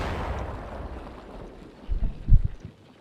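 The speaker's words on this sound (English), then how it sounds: "And the mortar exchange continues" Mortar fire exchange in Combat Mission Shock Force 2, a low rumbling background with a couple of deep muffled booms near the end, distant and heavy.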